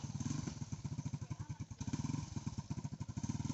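A motorcycle engine putters with a fast, regular thumping beat, fairly quiet and held at a steady pace throughout.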